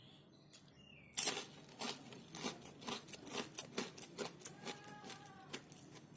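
Crisp, rapid crunching bursts of crispy fried tempeh being bitten and chewed, close up, with no talking.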